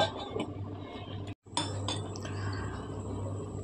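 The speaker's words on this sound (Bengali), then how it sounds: "ঢাকা দিয়ে দেবো, ঢাকা দিয়ে 5 মিনিটের জন্য রান্না করে নেব" A lid set on a cooking pot of Bengali cabbage and rohu fish-head ghonto, a couple of close metallic clinks around a brief silence, over a steady low stove hum.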